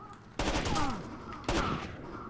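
Bursts of automatic gunfire from the video game Rainbow Six Vegas 2 ring out in two sustained volleys, loud and close, with rapid overlapping shots and echoing tails.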